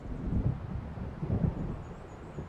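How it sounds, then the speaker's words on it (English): A thunderstorm in the video game Alan Wake Remastered: low, distant rolls of thunder rumble quietly in two soft swells over a faint steady wash of wind, with no voices. "It seems there's a storm coming."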